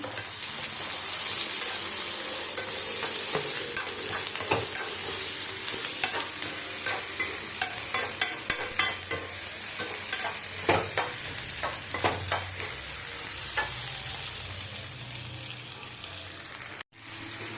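Steady sizzling of green chillies sautéing in a frying pan, with a spatula scraping and stirring in repeated strokes throughout.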